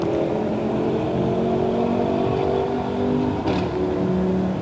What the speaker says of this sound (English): that was like an Audi RS3 accelerating there